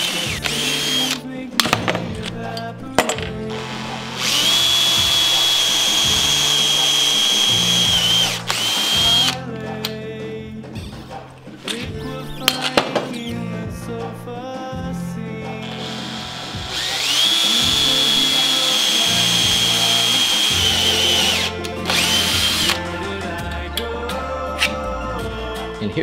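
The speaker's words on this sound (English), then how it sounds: "Clamp them together. And now drill out all your rivet holes." Power drill boring rivet holes through clamped metal sections for a homemade flail maul, heard as two sustained, loud whining bursts of several seconds each, separated by quieter workshop sounds and faint background noise.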